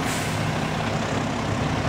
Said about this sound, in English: As trucks arrive, they park on the scale to weigh the load of recyclables.